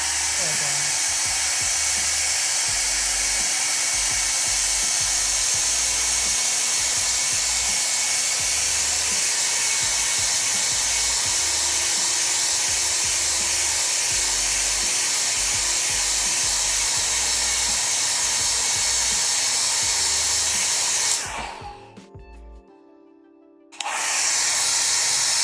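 Hair dryer blowing steadily to dry paint on an Avatar of Khaine miniature, a loud continuous hiss that cuts out briefly near the end before starting again.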